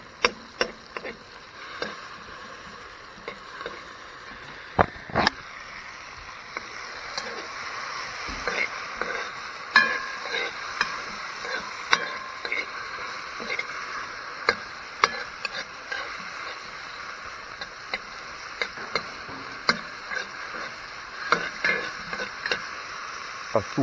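Scrambled eggs mixed with sardines, onion, tomato and garlic cook in oil over an outdoor fire, giving a faint steady sizzle broken by frequent sharp scraping and stirring clicks, with no talking.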